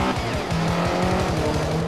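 A car drifts in a Forza racing video game, its tires squealing in a loud, sustained screech over a throbbing engine, with the pitch dipping and rising as the slide goes on.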